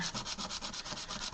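Charcoal rubbed back and forth across a sandpaper block, a steady rhythmic scratchy rasp of about a dozen even strokes, close and quiet, with no voices.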